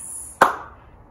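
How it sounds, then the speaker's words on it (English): A single sharp hand clap in a body percussion exercise, close and loud, landing once with a short decay into quiet. "Okay, clap."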